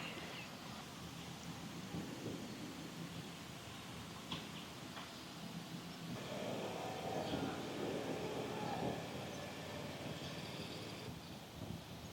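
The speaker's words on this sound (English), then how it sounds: "Oh my goodness, it's raining!" Rain falls steadily on a summer farm with low rumbles of thunder, a faint, continuous wash of noise that swells slightly midway.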